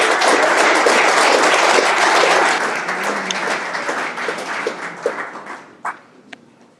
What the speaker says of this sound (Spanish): Le damos un fuerte aplauso para continuar.